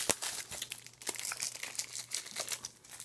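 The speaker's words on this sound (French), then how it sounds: "si je déballe le tout" Close crinkling and tearing of thin plastic wrap being peeled off a Blu-ray/DVD combo case, a busy stream of crackles and rustles with no voices.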